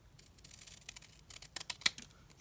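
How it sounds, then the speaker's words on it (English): Scissors snip quietly through paper while making a vintage calendar craft: soft, scattered cuts close by, building to a few crisper snips near the end in an otherwise hushed room. "So now I can just cut straight down"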